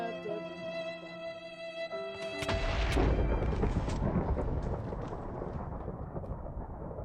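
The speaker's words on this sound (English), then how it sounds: "I want to get out of the way of the lightning." Lightning thunder in the Minecraft video game: a sharp crack followed by a long, loud rolling rumble that fades slowly, cutting in over a steady tonal music bed.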